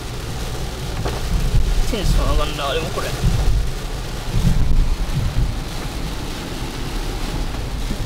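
Heavy rain pouring down in Okinawa, a loud continuous rushing wash with low rumbling swells, heard under excited voices talking.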